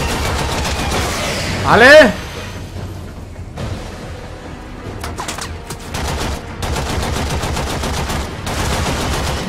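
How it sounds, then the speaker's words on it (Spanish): Rapid gunfire from the video game Warframe rattles on throughout, bursts and fusillades overlapping with a louder boom early on, while someone talks over the action. "Le están metiendo tiros, ¿no?"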